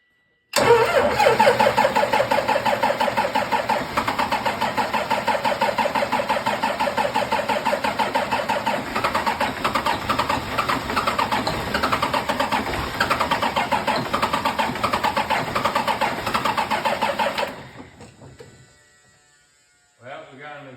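An old car's engine cranks and catches, then runs in a loud, close, buzzing rattle for about fifteen seconds before cutting off abruptly, leaving near silence and a brief final sound.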